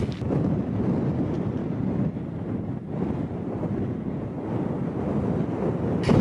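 Strong wind roars steadily across the microphone on an exposed mountain summit, a dense continuous buffeting with gusty swells throughout and no voices.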